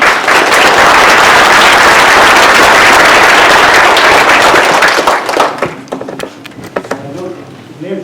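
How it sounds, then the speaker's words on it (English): A crowd at a county government ceremony breaks into loud, close applause that swells and holds, then thins into scattered claps as a voice begins speaking underneath near the end. "Please give them a round of applause"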